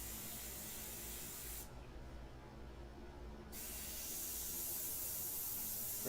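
Soft, steady hiss of an airbrush spraying paint onto a custom arrow, broken by a brief pause partway through before the spray resumes, with no talking.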